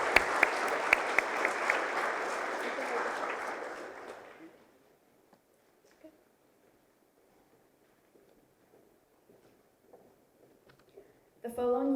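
Audience applause for award-winning students at a 2020 school award assembly: loud, dense clapping for about four seconds that cuts off abruptly, followed by near silence with faint scattered sounds.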